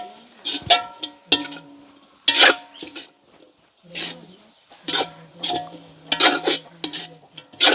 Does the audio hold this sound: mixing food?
yes